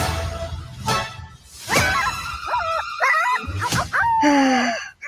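Dog yips, whines and barks in a series of sharp, close calls, part of a theme park show scene at Knott's, with whooshing effects in between.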